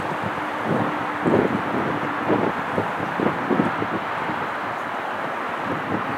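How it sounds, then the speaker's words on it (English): Hard wind blows in the mountains, buffeting the microphone in a continuous rumbling roar with irregular gusty thumps, close and fairly loud throughout. "The wind's blowing pretty hard, maybe making a lot of noise."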